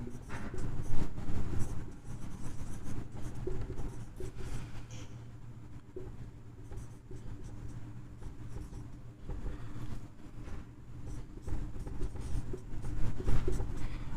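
Pen or chalk writing out a matrix inverse calculation for a Class 12 maths lesson, a steady scratching and tapping that runs throughout against a constant low hum, with no speech.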